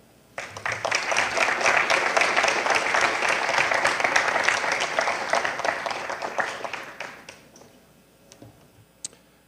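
An audience at an architecture school lecture applauds to welcome the speaker, Jim Jennings: steady, full clapping from many hands that holds strongly for several seconds, then thins out and fades to a few scattered claps.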